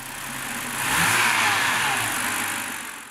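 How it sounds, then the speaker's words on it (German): A BMW 5 Series E61 engine idles steadily after an ignition coil replacement, a smooth, even hum heard close up with no talking. "wie wir sehen, läuft der Motor rund und seidenweich."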